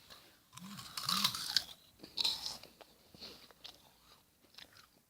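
Broken pieces of a crunchy snack being bitten and chewed, a few crisp crunches early on followed by quieter chewing and small crackles, close to the mouth and fairly soft, with no talking.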